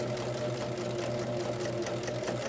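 A domestic sewing machine chain-pieces table runner fabric, its needle hammering in a fast, even mechanical rhythm with a steady motor hum, close and continuous, and no one speaking.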